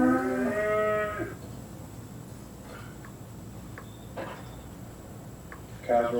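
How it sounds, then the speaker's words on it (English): A cow gives a long, loud moo at the start, and another moo starts up at the very end, with faint scattered ticks and clicks in between. "We have cows."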